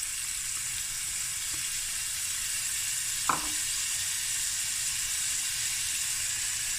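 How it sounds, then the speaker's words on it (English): Chopped onion sizzles in a pan of hot oil and meat drippings, a constant close hiss with one brief clatter partway through. "I'm going to add an onion chopped up"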